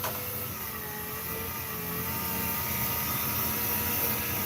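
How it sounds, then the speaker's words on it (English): A power sander runs in a collision repair shop, a steady broadband whir and hiss holding constant throughout, fairly loud and close with no talk. "Young fella starts running the sander."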